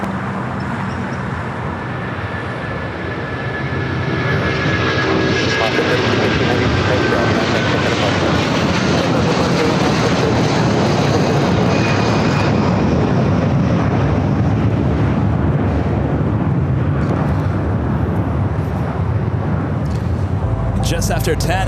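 A JetBlue airliner lands on runway 25 left at LAX on a sunny Los Angeles morning, its engines building into a loud, sustained roar that holds steady for most of the stretch.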